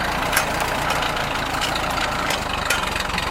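A Ford tractor's engine idles steadily just after starting, a low continuous rumble running evenly and alone throughout with no sputter.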